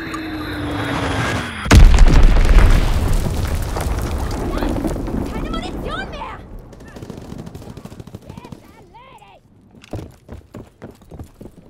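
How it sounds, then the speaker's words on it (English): Enemy bombs detonate in Call of Duty WW2 multiplayer: a loud close boom and rumbling blast, followed by a long decaying roar, then scattered gunfire and smaller impacts. "Enemy bomb incoming! Get to cover!"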